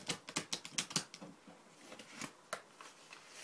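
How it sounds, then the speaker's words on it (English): A deck of cards is shuffled up close, giving a quick burst of crisp riffling flutters that slows into softer scattered flicks and taps, quiet and with no talk. "I'm going to go ahead and shuffle these cards for you"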